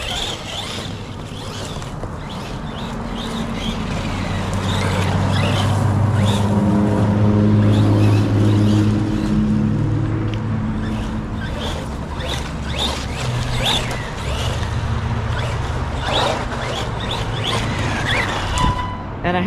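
Arrma Senton RC car with a new, more powerful motor running with the body off, a steady motor whine and rumble that swells in the middle and stays loud throughout.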